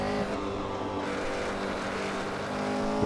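The engine of a 1968 Porsche 908 LH racing car accelerates on the Nürburgring, a loud, steady, high-revving drone heard close up throughout with no talk.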